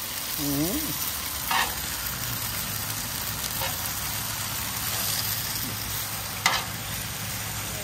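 Iguana fajita meat sizzles steadily in a pan, with a few scraping stirs and clinks breaking through the constant frying hiss at a fairly close distance.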